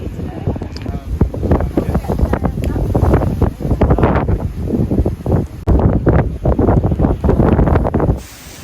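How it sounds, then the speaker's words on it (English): Strong coastal wind batters the microphone in heavy, gusting rumbles and roars that surge and fall continuously, loud and close, with no clear talk. "I think it's too windy today."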